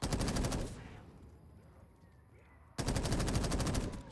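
Automatic gunfire bursts from a weapon in Black Ops 3 custom zombies, a loud rapid stream at the start, a quieter lull with faint game ambience, then another dense volley to the end.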